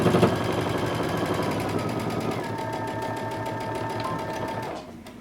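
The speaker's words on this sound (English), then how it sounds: "starting at the bottom, we're going to sew all the way up using 5/8 of an inch seam allowance." A sewing machine stitches a jumpsuit's pant side seam with a 5/8 inch allowance, its rapid even chatter running loud and alone before stopping near the end.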